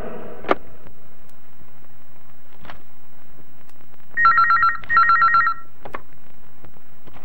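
A telephone rings in two short electronic bursts, with a few clicks and knocks around it in an otherwise quiet room.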